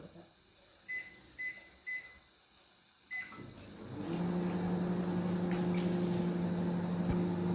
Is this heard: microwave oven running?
yes